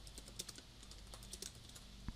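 Computer keyboard typing in quick, irregular clusters of soft clicks, fairly faint, with a few sharper keystrokes standing out near the end and no talking.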